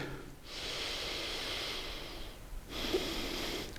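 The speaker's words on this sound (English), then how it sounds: "So inhale deep" A deep yoga inhalation drawn in slowly through the nose, a long airy breath lasting about two seconds, followed by another intake starting near the end, close and clear with no talk.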